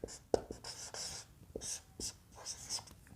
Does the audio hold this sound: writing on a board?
yes